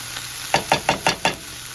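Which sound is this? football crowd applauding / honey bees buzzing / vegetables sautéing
vegetables sautéing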